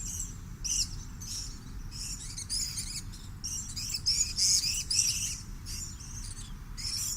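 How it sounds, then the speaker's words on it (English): Purple-crowned lorikeets, small Australian parrots, give repeated high, shrill chirping calls in quick overlapping bursts, fairly close and steady throughout with no voices. "These are purple-crowned lorikeets."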